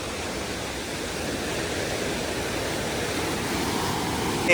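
Dangerous flood water of the Akeru Vagu stream rushing steadily past, a dense, continuous roar with no pauses, loud and close throughout with no voices heard.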